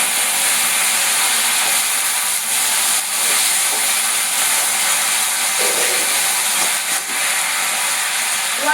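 Drumstick pods (moringa) dropped into a hot pan with cumin seeds sizzle in a loud, steady, close hiss that continues unbroken, with faint kitchen clatter now and then.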